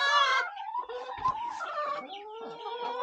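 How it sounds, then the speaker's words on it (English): Chickens and guinea fowl in a chicken tractor clucking and calling close by, a busy overlapping flock chatter with a louder harsh call at the start. "We've got six guineas in here, I guess, and maybe a half a dozen chickens."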